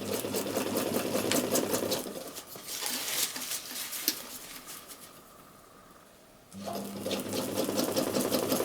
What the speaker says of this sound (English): I'm just going to sew across about 1/8 of an inch from the edge,